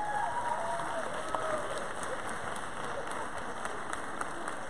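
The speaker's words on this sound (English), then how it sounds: "Let's have the students give a round of applause to the faculty." Students applaud the standing faculty at a 2019 FVSU Founders Day gathering: a steady, fairly faint wash of many hands clapping from across a large room, with a soft crowd murmur mixed in.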